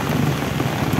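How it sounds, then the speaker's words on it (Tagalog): Heavy rain pours down steadily near a house by a river, a dense, continuous hiss with a low rumble and no talk, loud and close throughout. "sobrang lakas talaga yung ulan."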